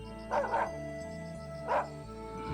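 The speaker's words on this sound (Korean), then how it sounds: "마당에서 키우는 개가 문 밖을 향해 큰 소리로 짖어대는 것이다" A yard dog barking loudly toward the gate, with two short yipping barks spaced about a second apart over a steady low background drone.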